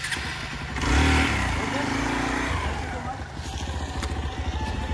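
A motorcycle engine runs close by near Hogenakkal Falls, a steady low rumble that swells briefly as it revs, with people talking in the background.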